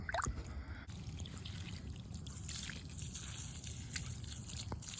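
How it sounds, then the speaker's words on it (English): Water drains from an inflatable hot tub through its floor drain with the flapper pulled, giving a steady, close trickling and dribbling with small splashes and no talk. "Draining good."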